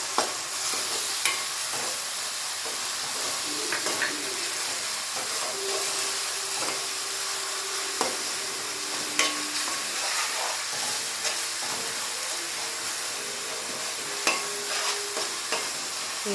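Ginger, onion and coriander paste frying and sizzling in a pan with a steady hiss, broken by occasional stirring scrapes and clinks, close and fairly loud with no voices.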